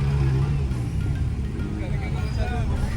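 Midnight traffic jam on a Nagpur street during Christmas, a low continuous rumble of idling and creeping vehicles with muffled engine noise close around.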